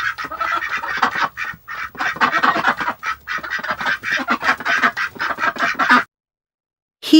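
A flock of ducks quacks busily and nonstop for several seconds, the loud overlapping calls then breaking off into silence before one last quack.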